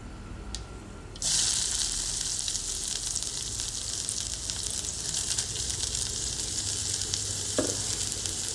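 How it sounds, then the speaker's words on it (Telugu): Thinly sliced onions drop into hot oil with tempering spices, setting off an abrupt, loud, sustained sizzle that crackles evenly close by, with a brief clink of a utensil against the pan near the end. "సన్నగా కట్ చేసుకున్న ఆనియన్స్ ఉన్నాయి కదా వాటిని కూడా యాడ్ చేసేసుకుందాం"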